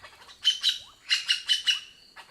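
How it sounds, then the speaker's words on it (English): Magpie jay calls ring out loud and clear, a run of bright, rhythmic chirping bursts in quick pairs and triplets, with no other sounds around them. "Magpie jays have an astonishing vocal system."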